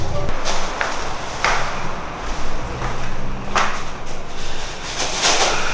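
A sliding door to a small home studio rolls open at night, a soft scraping slide with a few light knocks over steady room hum and a low background drone.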